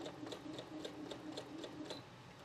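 A sewing machine runs the final seam of a four-patch quilt, its quiet, even stitching ticking in a steady rapid rhythm throughout, with no talking.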